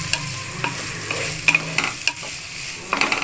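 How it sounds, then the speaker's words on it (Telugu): Vegetables for a biryani fry with salt in a pan, a low steady sizzle broken by sharp scraping clicks of a spoon stirring against the metal every half second or so. "ఉప్పు వేసేసి వేపించుకుందామండి, పచ్చివాసన పోయేదాకా వేపించుకుందాం."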